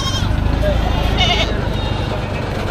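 Goats at a Philippine livestock market bleat in a brief wavering call over a dense murmur of crowd noise and nearby talk.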